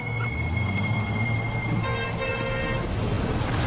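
Dense city traffic noise with sustained car horns honking over a continuous engine roar, several tones overlapping in a busy jam.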